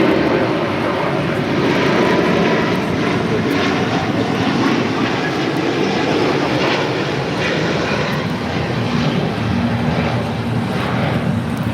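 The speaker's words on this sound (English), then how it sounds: "282 Speedbird 8 Whiskey taking off to London Heathrow on the A350 1000." A British Airways Airbus A350-1000 takes off at LAX, bound for London Heathrow, as a loud, steady, broadband jet roar that holds for the whole stretch with no voices.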